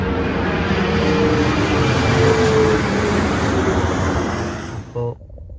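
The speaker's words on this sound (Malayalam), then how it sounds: "തൊട്ടടുത്തൂടെയാണ് ഫ്ലൈറ്റ് പോകണം." An airplane flies low past a hotel near an airport in Mississauga, a loud close roar of jet engines that holds steady and then fades away near the end, with no talk over it.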